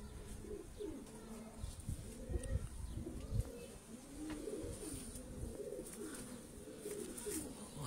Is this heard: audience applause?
no